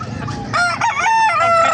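Roosters crow loudly and close by at a crowded chicken market in Bocaue, Bulacan, one long strained cock-a-doodle-doo filling the short moment with clucking and faint background chatter around it.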